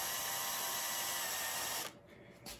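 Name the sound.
drilling pilot holes in wooden window sash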